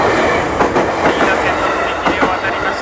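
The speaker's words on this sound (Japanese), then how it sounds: "通り過ぎていきました2両編成の電車。" A two-car electric train in Ina, Japan rumbles past up close, its wheels clattering in a steady rhythmic clack over the rails, loud and continuous throughout.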